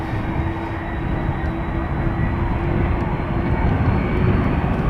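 The jet engines of a Delta A330 spool up on the runway threshold at Amsterdam Schiphol, a loud, steady, rising roar with a sustained whine, continuous throughout.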